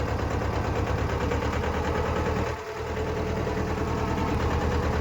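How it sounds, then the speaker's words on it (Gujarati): A small mini tractor engine chugs steadily close by on a lemon farm in an even throbbing rhythm, dipping briefly midway before resuming. "mini tractor"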